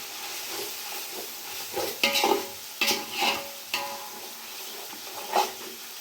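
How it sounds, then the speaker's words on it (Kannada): Chili powder fries in hot oil for biryani as a spoon stirs it, a soft steady sizzle broken by several scraping, clinking stirs against the pan, close and moderately loud with no talk. "ಈಗ ಎಣ್ಣೆಗೆ ಸ್ವಲ್ಪ ಮೆಣಸಿನ ಪುಡಿ ಹಾಕೊಂಡ್ಬಿಡೋಣ."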